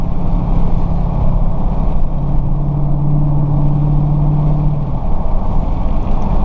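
2016 Dodge Charger R/T Scat Pack 392 cruising a cool down lap at Texas Motor Speedway, a steady loud low engine drone with wind and road roar, a faint hum rising partway through, no talking.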